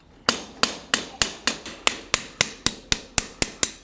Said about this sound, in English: running around the inside edge of the shoe now with the round side of my hammer